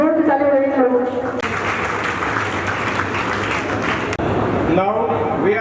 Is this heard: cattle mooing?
no